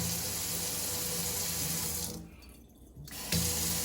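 Water runs steadily from a Delta Touch2o touch-activated kitchen faucet into the sink, a close broadband rush that cuts off briefly after being tapped off, then resumes loudly.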